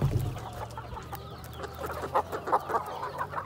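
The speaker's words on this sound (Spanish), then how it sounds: "aquí le estamos dando comidita a los pollos" Chickens clucking while being fed, with several soft clucks and short calls close by over faint background noise and scattered light scratching.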